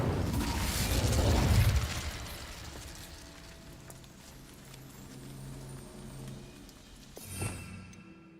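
An Incendio fire spell is cast in Hogwarts Legacy, a loud whooshing burst of flame that roars for a couple of seconds, then fades into a low game ambience with a brief sharp pop near the end.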